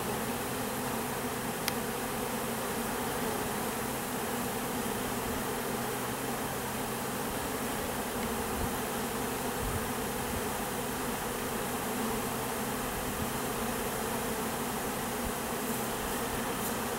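Honey bees from an opened beehive buzz steadily and densely for the whole stretch, a close, even hum with no voices over it.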